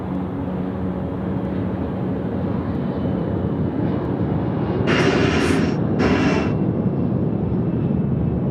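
Steady jet roar from an Australia Post Boeing 737-800 freighter at Sydney Airport in the evening, a continuous broad rumble with two brief brighter hissing bursts near the end, no voices.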